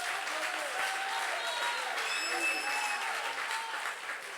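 A church congregation applauding together during a French-language service, steady sustained clapping from many hands filling the room, fairly distant and moderate in level.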